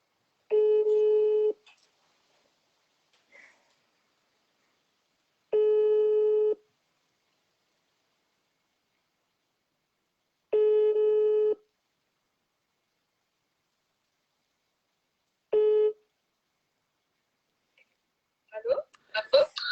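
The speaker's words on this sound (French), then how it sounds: "Allez, c'est parti, j'appelle Coralie" A telephone ringback tone while calling someone repeats four times, each long even tone followed by several seconds of silence, clear and alone, before faint clicks and a voice begin at the end.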